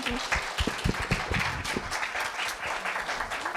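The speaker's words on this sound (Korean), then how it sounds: "두 학생에게 큰 박수 다시 한번 부탁드립니다" An audience applauds two middle school students at a university speaking festival, with a steady roomful of clapping and distinct individual claps standing out, loud and sustained.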